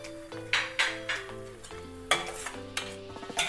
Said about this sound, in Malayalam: ശർക്കരപ്പാനി ഒഴിച്ചു കൊടുക്കാം